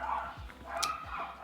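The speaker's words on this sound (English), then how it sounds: "And the neighbor's dogs saw something they found interesting." Neighbor's dogs bark a few times nearby, short repeated woofs over a low background, with some faint voice-like sounds mixed in.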